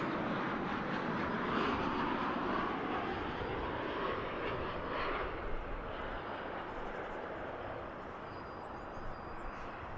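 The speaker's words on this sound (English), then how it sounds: "here comes the flight from Querétaro in Mexico." An airliner on its arrival at DFW International Airport, inbound from Querétaro, Mexico, gives a steady, loud, broadband jet roar that holds for the whole stretch with only slight swells.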